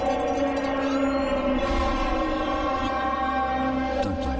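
A train rumbles past loudly and continuously with a steady mechanical drone in a railway-crossing public service announcement. It sounds close and sustained, with a slight shift near the end.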